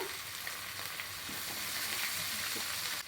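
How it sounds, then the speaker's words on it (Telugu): Chopped cabbage frying in a pan with green chillies, turmeric and salt for an egg-free vegetable fried rice, giving a steady, even sizzle with faint stirring scrapes throughout and no talk. "ఇప్పుడు మనం తరిగి పెట్టుకున్న క్యాబేజీ వేసుకోవాలి"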